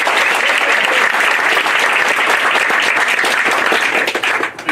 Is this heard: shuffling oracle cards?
no